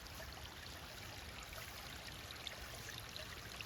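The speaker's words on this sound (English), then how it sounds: "the water is escaping from underneath" Overflowing pond water escaping from underneath after heavy rain, a steady soft rushing trickle heard from nearby, faint and unbroken with no voices.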